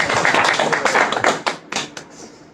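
A small group at a Bhagavad Gita class claps in a ragged burst of taps for about two seconds, the claps moderately close and fading toward the end.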